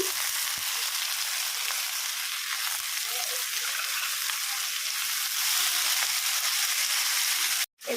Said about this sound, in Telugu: పాలకూర అంతా నూనెలో మంచిగా మగ్గించుకోవాలి